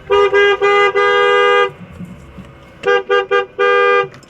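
A loud car horn honks at a railway gate in several pulses: two short toots and a long blast, a pause, then three quick toots and another sustained honk, all very close.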